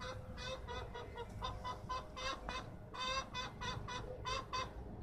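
Chickens cluck in quick bursts while pecking at tortilla and egg outdoors, a rhythmic series of close, fairly quiet calls with brief pauses between.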